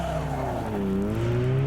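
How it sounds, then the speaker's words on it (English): A Mazda RX-8 sports car accelerates hard with a loud, close engine roar. A rising whine sweeps upward throughout while the tires squeal and skid on the road, with no voices. "So let's see how fast this car goes down the road."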